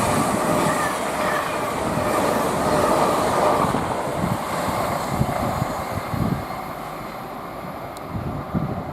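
A Class 802 train, unit 802-106, passes at a sedate speed at West Ealing on the Great Western Main Line, with a steady rolling rumble, clattering wheel beats and faint squeals, fairly close and without talk.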